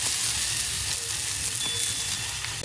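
Asafoetida tempering fries in hot oil in a pressure cooker pan, a dense, constant crackling sizzle that stays loud and close for the whole stretch, with no talking.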